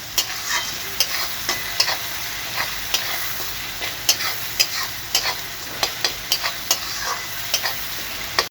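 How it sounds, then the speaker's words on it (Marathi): Tomatoes frying in a pan for chicken curry, stirred with a spoon: a continuous sizzle broken by frequent sharp scraping and tapping strokes at an uneven, busy rhythm, close and without speech. "मग चांगला हलवून घ्यायचं."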